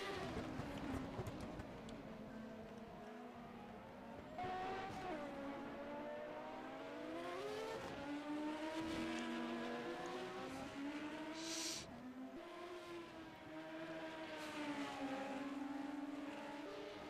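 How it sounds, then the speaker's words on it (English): Race cars running on a circuit during a race, engines droning and shifting pitch steadily as cars pass, with a commentator talking throughout. "And now Jason White under attack from Ray Riddall in the battle for 11th and 12th."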